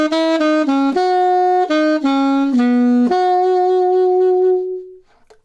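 Solo alto sax plays the Don't You Worry Bout A Thing melody, a short run of clear, close, detached notes ending on one long held tone that fades out.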